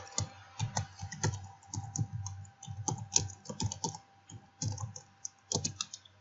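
Typing on a computer keyboard while writing a CV in MS Word, steady bursts of close key clicks with short pauses between words, no talk.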